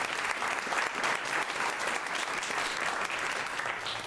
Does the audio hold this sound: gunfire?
no